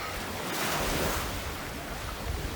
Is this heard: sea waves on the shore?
yes